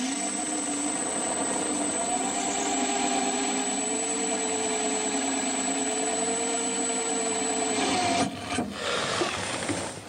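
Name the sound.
Drilling a hole in ceramic tile with ARTU drill bit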